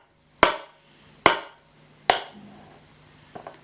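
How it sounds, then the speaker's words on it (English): A hammer drives nails with three sharp, evenly spaced strikes, each ringing briefly before fading, followed by a faint lighter tap in a quiet room. "Soldiers hammering in the nails."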